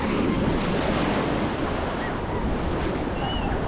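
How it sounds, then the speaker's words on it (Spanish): Ocean waves breaking on the beach at Playa del Carmen, a loud, continuous roar of surf mixed with wind buffeting the microphone, no voices. "Aquí es donde rompe la ola."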